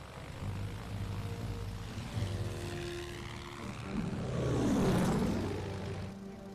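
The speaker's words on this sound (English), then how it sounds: "the aircraft carrier HMS Ark Royal has dispatched a second wave of airplanes, British Swordfish bombers" Second-wave British Swordfish biplane bombers launched from the aircraft carrier HMS Ark Royal drone overhead, a steady propeller-engine hum that swells as a plane passes close, then fades.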